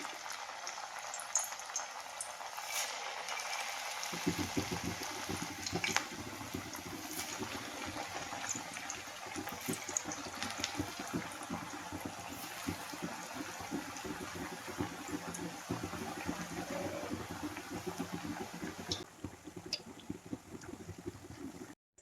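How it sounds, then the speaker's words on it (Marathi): Chakli dough dropped into hot oil and frying on a lowered gas flame, a dense, steady bubbling sizzle that starts abruptly and holds evenly at close range, with no talking. "आता ह्या तेलामध्ये ना मी ही चकली सोडायला लागलेली आहे"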